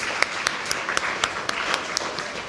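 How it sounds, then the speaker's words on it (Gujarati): An audience at a children's book-talk event gives a student light, sparse applause: a dozen or so distinct claps spaced apart, fairly quiet, with a soft murmur underneath. "એકવાર એના માટે તાળીઓ કરીએ."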